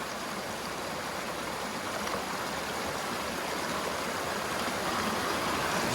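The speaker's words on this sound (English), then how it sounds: "I really want this moving water" A moving stream rushes steadily outdoors, a constant broad hiss and gurgle of flowing water filling the scene at an even level with no voices.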